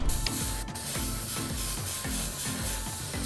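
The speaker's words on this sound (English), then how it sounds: "Pressure that I use for the airbrush ranges between 30 to 47, depending on what I'm shooting." An airbrush sprays paint in a steady close hiss, with a faint rhythmic pulsing from the compressor running underneath throughout.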